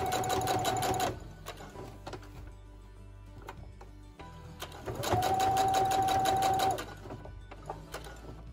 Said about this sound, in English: I'm back from the sewing machine